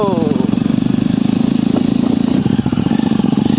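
A motorcycle engine chugging at low revs close by on a rocky trail in Dong Valley, with a rhythmic pulsing throb and a brief rise in pitch near the start.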